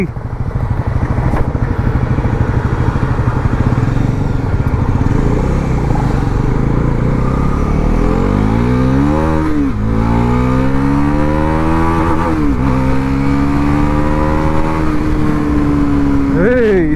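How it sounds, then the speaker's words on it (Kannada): Bajaj Pulsar NS400Z motorcycle engine revs and pulls through gear changes on the road, a loud, close, continuous drone rising and dropping in pitch with wind rush, and a rider talks over it. "So let's ride the NS 400Z."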